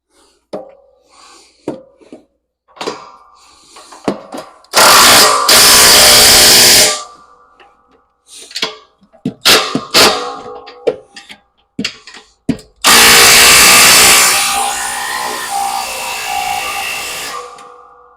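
Power tool tightening bolts and nuts on a mudflap bracket of a Mack Cruiseliner truck, two long loud whirring runs separated by clanks, rattles and handling knocks, all close by.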